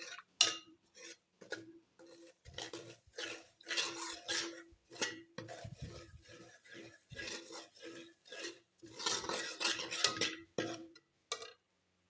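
A spoon stirring semolina in a metal pan for suji halwa, sounding as a series of close scraping and clinking strokes with short pauses between, irregular in rhythm, with no talk.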